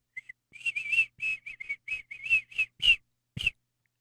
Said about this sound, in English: No, just do your whistle.